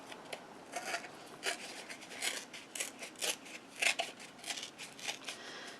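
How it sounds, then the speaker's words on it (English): Green paper torn by hand into squares, a string of short dry ripping bursts in an irregular rhythm, close and fairly quiet, with no talking. "I'm just going to tear some squares."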